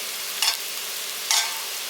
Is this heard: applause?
no